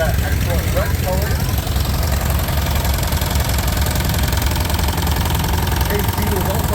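A 1929 Case B tractor engine runs at a steam power show, a loud, continuous low chugging idle with knocking vibration throughout, while someone talks over it.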